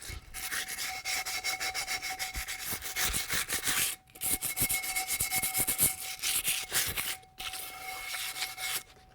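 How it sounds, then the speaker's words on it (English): Sandpaper rubbed by hand over a drum shell to work off old glue, a steady, close, rasping scrub in rapid back-and-forth strokes, broken by two brief pauses. "You can also use the sandpaper like this and just sort of work it."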